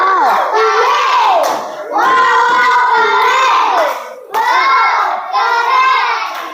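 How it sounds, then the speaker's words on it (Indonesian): A class in a teacher training session claps and chants together in rhythmic bursts, loud and close, with children's voices shouting in unison between the rounds of clapping. "Oke, aplaus buat Asifa."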